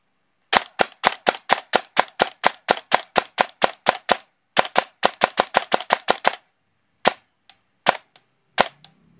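A gel blaster fitted with a t238 39K brushless motor fires in semi-auto, a fast steady string of about two dozen loud, sharp snapping shots, then a pause and a few slower single shots, close and clear with no talk.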